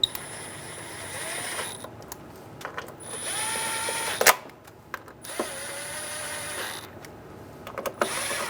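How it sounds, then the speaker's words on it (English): Ratchet clicking in quick bursts while snugging down cover bolts on a 2003-2008 Honda Pilot during knock sensor replacement, close and fairly clear, with a faint high whine in the background. "Snug down all the bolts until they touch the cover"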